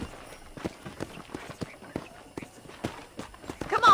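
Horse hooves clip-clop at a steady walking rhythm while riding in the Red Dead Redemption video game, with moderately quiet regular thuds over a soft background.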